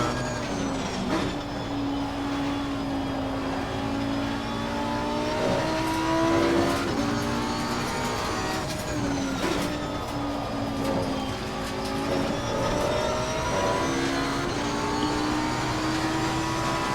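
Race car engines roar steadily in the racing game Assetto Corsa Competizione during a wet night race among other cars, with loud, continuous droning and rising, falling revs as gears shift. No voice is heard.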